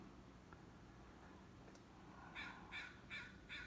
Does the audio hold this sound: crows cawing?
yes